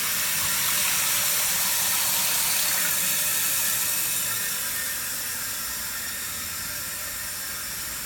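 Toilet tank refilling after a repair, a steady rushing hiss of water that fades slightly toward the end, heard on its own without talk.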